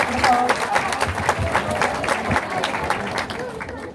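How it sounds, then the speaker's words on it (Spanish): Applause from the crowd at a school-year opening ceremony in Chilete, a steady wash of clapping mixed with crowd noise and a voice over it, moderately loud throughout. "Que se escuchen esos aplausos, por favor."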